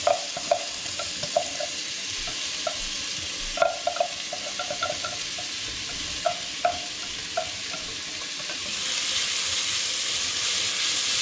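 Onions frying in hot oil with spices for palak paneer, a steady sizzle and hiss with intermittent stirring clicks, growing louder and more even toward the end.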